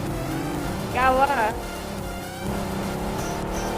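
An in-game vehicle in BGMI (Battlegrounds Mobile India) drives off with a steady engine drone and a short rising squeal-like whine, while someone talks over it in a duo match.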